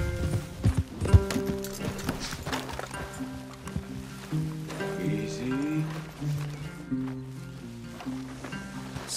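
Horses in the video game Red Dead Redemption 2 clip-clopping as they move, with hoof steps and a snort amid rain and ambient game music, while someone speaks briefly.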